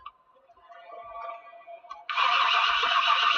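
A car engine in Farming Simulator 19, stalling and not picking up RPM from the distributor, gives a low mechanical hum with faint ticking, then an abrupt loud, steady roar takes over about two-thirds of the way through.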